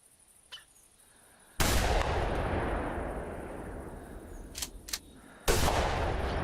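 Rifle shot fired into the ground while hunting in the video game theHunter Classic, Settlers Creek map: two loud, sharp blasts a few seconds apart, each followed by a long rolling echo, with a couple of faint clicks between.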